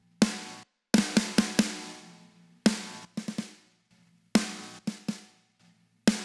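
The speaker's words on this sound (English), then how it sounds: "So I really want that snap, super compressed snare sound to add to the original snare" A punchy acoustic snare for industrial rock, a heavily parallel-compressed layer blended with the original snare sample, strikes in sharp, loud hits with ringing tails, played alone in irregular groups and some quick flams.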